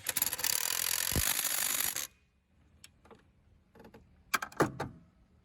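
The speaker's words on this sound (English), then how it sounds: "I'm going to go ahead and get a bolt through and start tightening that part down" A ratchet tightening a bolt on a Ford Duratec 3.0L V6 oil pan on a 2005-07 Ford Freestyle: about two seconds of loud, rapid rasping clicks, then quiet, followed by a few sparse metallic clicks.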